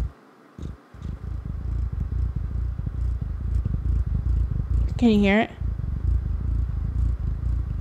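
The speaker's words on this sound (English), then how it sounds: "That's purring." A cat purrs right into a close microphone: a loud, steady low rumble runs throughout, broken by a short rising meow-like call midway. A person speaks briefly over it.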